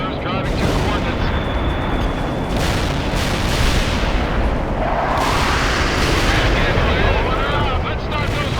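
Continuous artillery barrage in the real-time strategy game World in Conflict, dense booming and rumbling blasts filling the whole stretch at steady loudness, with radio-style unit voices speaking over the battle noise.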